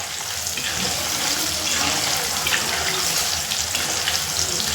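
Paneer cubes frying in hot oil for a quick paneer curry, giving a steady, loud, continuous sizzle that holds evenly throughout with no talking.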